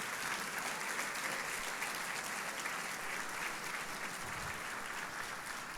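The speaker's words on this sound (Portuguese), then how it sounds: "Dá uma salva de palmas para Jesus." A church congregation claps steadily and loudly, a dense, continuous wash of applause that holds evenly throughout.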